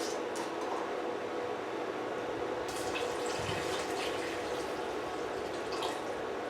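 A quart of plain water pours steadily into a pot in a kitchen, a continuous soft rushing splash with a few drips, close and alone.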